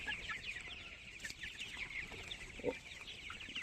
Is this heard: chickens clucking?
yes